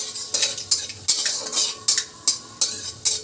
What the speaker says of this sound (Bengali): তারপরে দিব তোমার সজনা দেবো, দিয়ে একটু নাড়াচাড়া করে